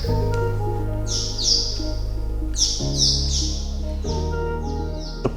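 Birds chirp inside an abandoned building in Cameroon, repeated bright high tweets in short bursts, fairly close, over a steady low hum from a ventilator in the space, with no talking.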